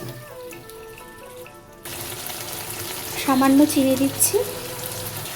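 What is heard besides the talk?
water being added to cooking beans and potatoes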